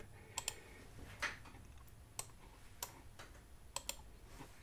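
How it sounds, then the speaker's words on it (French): Scattered keystrokes on a computer keyboard, a handful of sharp, quiet clicks spaced irregularly, close by with no talk. "j'attrape mon clavier"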